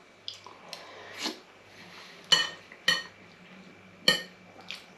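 A spoon clinks against a bowl of cod, prawn and chorizo stew while eating, giving several sharp separate metallic taps spaced irregularly over a few seconds, with soft scraping between them and no speech.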